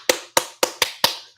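Six crisp, close handclaps from one person land at a steady pace of roughly four per second, with nothing else heard.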